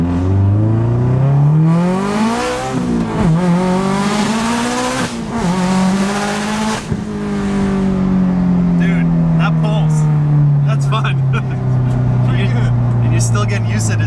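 A Subaru STi running an ETS 6466 turbo at about 630 wheel horsepower, pulled at wide-open throttle with traction control off; the loud engine note climbs and drops through gear changes, then settles into a sustained drone with some high crackles near the end.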